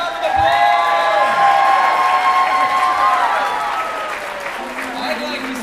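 Audience at a special needs talent showcase applauding and cheering, a loud crowd roar with whoops and a voice rising over it, fading slightly toward the end.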